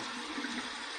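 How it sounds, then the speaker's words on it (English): Cold tap water runs steadily from a faucet for rinsing after a shave, a continuous close gushing stream with no voice over it. "Let's run this under some cold water and let's see where we're at."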